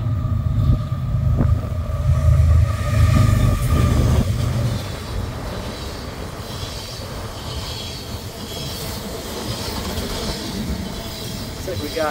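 A train rolls past a grain elevator in Lang, Saskatchewan, a loud steady rumble of railcars with rattling wheels that is strongest early and holds as a continuous roar, with faint voices talking over it.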